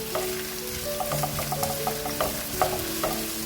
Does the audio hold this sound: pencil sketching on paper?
no